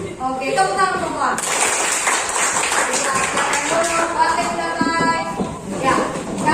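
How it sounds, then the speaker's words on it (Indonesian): A group in a school classroom breaks into scattered applause, a dense patter of hand claps lasting several seconds with voices talking throughout. "Oke, tepuk tangan semua."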